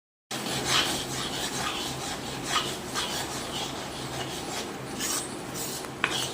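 Jaggery being stirred into flour for sukhadi with the gas turned off, a steady scraping, rasping rub of a spoon against the pan, continuous and close, with no talking.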